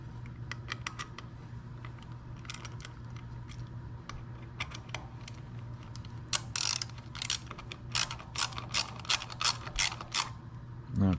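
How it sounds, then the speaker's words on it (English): Ratcheting clicks while screwing down a Vance & Hines VO2 air intake on a motorcycle, with slow, careful rows of close metallic clicks that speed into denser bursts over a steady low hum. "I have to screw this down very gingerly"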